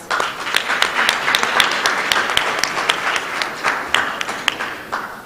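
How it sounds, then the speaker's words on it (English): Crowd applause at a Boys & Girls Clubs of Palm Beach County Youth of the Year gala, a loud, sustained wash of many people clapping together for over five seconds, steady with crisp individual claps standing out. "Please give yourself a round of applause"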